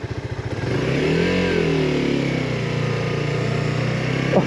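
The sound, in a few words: Suzuki GSX-R 125cc sports bike engine, throttle revving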